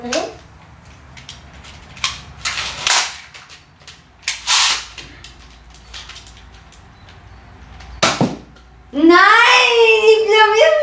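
A toy gun fires at balloons in a shooting-gallery challenge, with several sharp cap-like pops spread across the clip, close and loud, between bursts of excited children's voices and a shrill squeaky squeal near the end.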